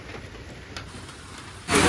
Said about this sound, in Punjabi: ਬਾਰਿਸ਼ ਨੇ ਪੂਰਾ ਕਹਿਰ ਬਰਸਾਤਾ